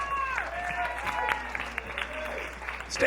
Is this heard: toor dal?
no